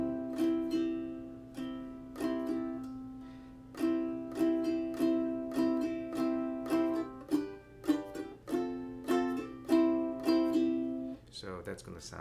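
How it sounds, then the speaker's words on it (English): Ukulele strummed in a steady pattern, a single down strum on the first beat followed by a quick down-up on the second, repeating evenly and close up with bright ringing chords, ending in a brief scrape of movement. "a strum where in the first beat is a down strum like this,"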